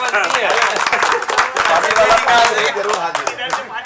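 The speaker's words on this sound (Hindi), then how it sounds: "इसके लिए तालियां बजती है।" A crowd claps during a stage performance of childhood and school-days memories, a loud, brisk burst of many hands mixed with voices and cheering that thins out toward the end.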